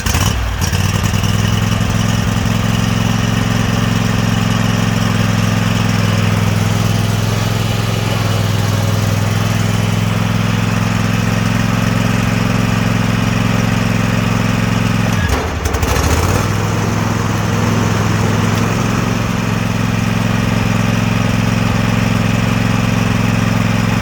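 An Ariens riding mower tractor engine idles steadily, a loud, close, continuous droning chug with a brief dip partway through and no talking.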